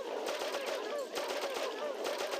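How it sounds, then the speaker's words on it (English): Rapid gunfire from the video game Oddworld: Abe's Oddysee, a dense stream of repeated shots firing in a steady rhythm, continuous throughout, with no talking. "it's gonna be nothing but just shooting, and shooting, and shooting, and shooting"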